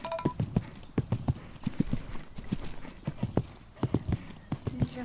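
A horse gallops on a riding session, its hoof beats landing in steady three-beat clusters, close and fairly loud, with some talk in the background.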